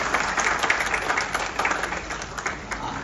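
A university hall audience breaks into sustained, dense applause, many hands clapping loudly and close for the whole stretch, with a faint murmur of voices underneath.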